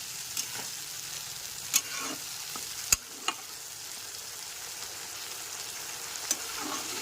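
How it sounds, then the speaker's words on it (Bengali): Spice masala of cumin, turmeric and Kashmiri chilli powder sautés in a pan over a medium gas flame, a soft, steady sizzle broken by a few sharp clicks and scrapes from stirring. "গ্যাসের ফ্লেমটা মিডিয়ামে রেখে ভালো করে মশলাটাকে কষিয়ে নিতে হবে"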